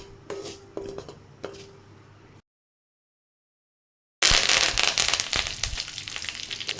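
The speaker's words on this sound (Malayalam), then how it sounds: "കടുക് പൊട്ടി കറിവേപ്പില ഇട്ട് കൊടുത്തിട്ടുണ്ട്" Mustard seeds crackle and pop in hot oil in a pan, a few sharp pops at first, then a break, then a loud, dense burst of sizzling and popping up close.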